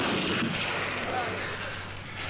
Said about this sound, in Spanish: Estamos entre fuegos cruzados.